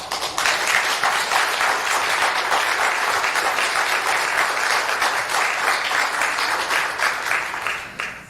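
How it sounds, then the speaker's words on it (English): A congregation at an annual meeting breaks into loud, sustained enthusiastic applause for an award recipient, dense clapping holding steady before tapering at the end. "her name was greeted with such enthusiastic applause"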